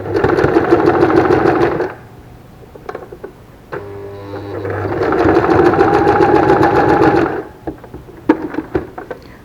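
A sewing machine stitches a fabric face mask with elastic under its lining, running loud and close in two long bursts of rapid whirring with a quieter pause between them and brief starts and stops at the end.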